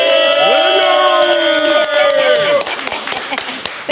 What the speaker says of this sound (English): Round of applause for the winner